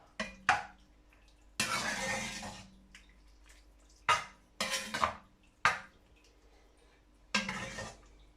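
A spoon stirring a sauce thickened with plain flour in a pot at a home kitchen, heard as several scraping, clattering bursts of utensil against cookware separated by quiet pauses, close and moderately loud with no talking.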